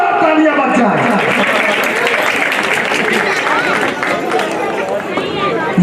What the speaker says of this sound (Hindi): दुर्गेश पांडे जी को एक बार जोरदार तालियां बज जाए।